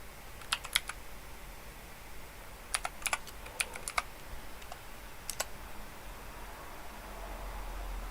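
Bursts of keystrokes on a PC keyboard while commands are entered during disk troubleshooting: clusters of sharp clicks, faint and close, separated by pauses over a low steady hiss.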